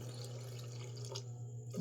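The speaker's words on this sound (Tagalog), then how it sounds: "So dungagan lang ako gamay nga tubig, gamay lang." Water trickles and pours steadily into a pot of mung bean stew over a constant low hum, with a brief splash near the end.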